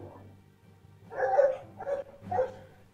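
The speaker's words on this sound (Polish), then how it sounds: "Pies mi się odpalił, przepraszam za to." A real dog barks three times in a row, muffled and moderately close, with a short gap between each bark in an otherwise quiet room.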